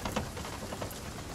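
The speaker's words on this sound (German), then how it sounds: "Wir sind schneller als der Regen." Steady rain falls with a dense, even patter in the Sea of Thieves pirate game, a soft continuous wash with faint splashes and no voices.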